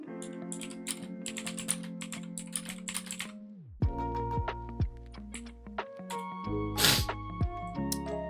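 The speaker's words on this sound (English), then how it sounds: "I was typing something over in my other slot for a moment" Rapid clicks of typing on a computer keyboard come close and clear, irregular bursts of keystrokes broken by short pauses, with faint tonal background sounds and no speech.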